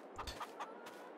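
Chickens on a farm in the video game Farming Simulator 22 cluck in a brief burst of three or four quick, faint calls.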